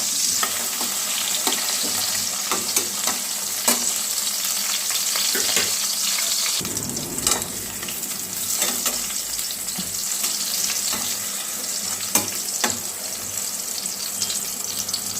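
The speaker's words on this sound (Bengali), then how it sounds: "বেগুনগুলো একটু ভালো করে ভাজা করে নিচ্ছি।" Eggplant pieces fry in hot oil in a pan, giving a continuous loud sizzle with occasional clinks and stirring scrapes, no talking.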